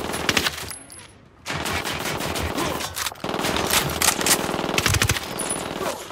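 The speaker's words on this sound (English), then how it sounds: "Opening fire." Rapid automatic gunfire in the shooter game Ghost Recon Wildlands, loud dense bursts with a short pause, then sustained firing that continues to the end.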